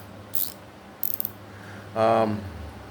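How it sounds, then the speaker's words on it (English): A mini double-head 72-tooth ratchet wrench gives two short bursts of fine clicking, followed by a brighter metallic rattle, all close and fairly quiet against a faint background hum. "it sounds just as good as a gear wrench"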